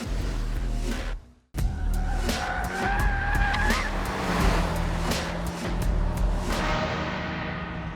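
Front-wheel-drive Suzuki Swift hot hatch lapping a race circuit, tyres squealing in a rising whine over a steady engine drone, with a brief dropout before the car returns loud and close.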